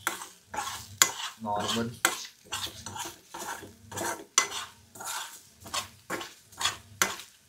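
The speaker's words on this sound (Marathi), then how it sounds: "याला मी जास्त डीप फ्राय नाही करत" Egg meal being stirred and fried in a pan, with a dozen or so rhythmic scraping strokes of a utensil against the pan, close and steady, each pause letting a soft sizzle through.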